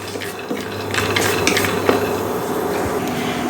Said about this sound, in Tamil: இந்த வேர்க்கடலை கொஞ்சம் வறுபட்டு வரட்டும்.